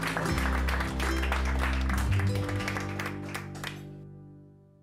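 Villagers in a Derbyshire village hall applauding and cheering as a cake is cut, with dense clapping and shouts layered over music. The noise builds, then fades and tails off toward the end.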